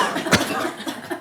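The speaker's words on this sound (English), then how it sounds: "cough a few times." Participants in a Daoist breathwork session at a Stanford summit give a few coughs, with one sharp, loud cough standing out amid a murmur of softer coughs and breaths in a room.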